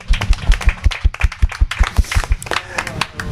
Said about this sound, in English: Round of applause for Charlie and the translator, please.